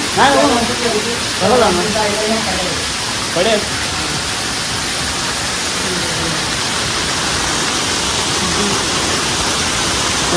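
Strong water flowing near a dam rushes as a loud, broad, unbroken roar, and voices talk over it at the beginning.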